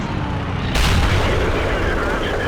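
A World of Tanks tank cannon shot ricochets off armor with a sudden heavy boom that fills the mix, following a steady roar of battle noise.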